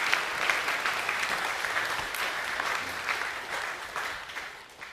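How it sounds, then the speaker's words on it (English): An audience at a school academic assembly claps in steady applause, a dense patter of many hands that holds for several seconds and gently tapers off, with no one speaking. "a big round of applause for Miss Goves and Mrs. Cooper."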